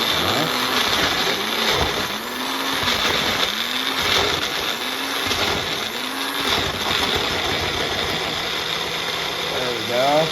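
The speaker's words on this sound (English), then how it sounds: "I don't want it like pureed or anything, just a nice blend." A countertop blender pulses pepperoncinis into a coarse spread, its motor droning steadily up close with rhythmic surges in pitch across the whole stretch.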